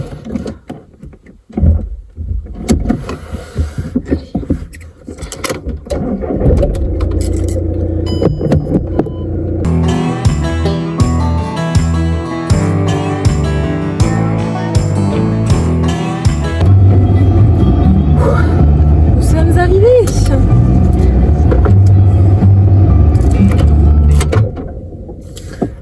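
A car starts up and pulls away, first some clicks and handling noises, then a steady engine drone that builds and holds at close range from inside the vehicle.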